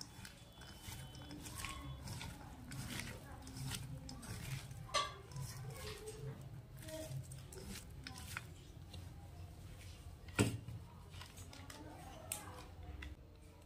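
Chopped onion being kneaded by hand with a spice paste in a bowl for egg jhal paturi, giving soft continuous squelching and scraping with a few sharper knocks against the bowl, close and moderately quiet throughout.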